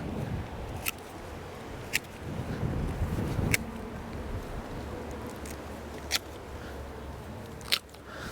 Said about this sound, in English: I will just cut all the sticks.